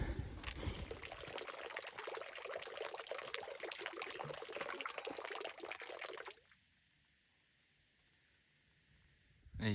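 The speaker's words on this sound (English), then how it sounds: "Let's hope there's water in there. Oh yeah, I can hear it running." Water from a natural spring running and trickling steadily at close range, fairly quiet, for several seconds before stopping abruptly and leaving near silence.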